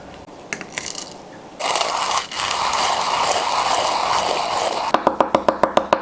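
A KINU M47 Traveler hand coffee grinder grinding beans, a steady close rasp of the burrs turning, with a few clicks before and a rapid run of ratcheting clicks near the end as the setting is adjusted.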